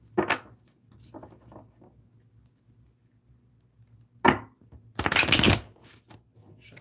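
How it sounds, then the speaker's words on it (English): A deck of tarot cards shuffled by hand in a quiet room, with a short riffle near the start, a soft flutter, then a louder dense burst of card riffling near the end, close and alone. "Shuffle these a couple more times."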